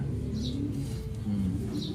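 Racing pigeons readied for a north race give low, soft cooing close by, a few throaty murmurs over a couple of seconds with faint higher chirps.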